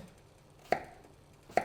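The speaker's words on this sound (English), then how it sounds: "cut it into thick slices and then into neat cubes" A knife cuts sweet potato into cubes on a cutting board with two crisp, separate chops a little under a second apart. Quiet kitchen pauses surround each stroke.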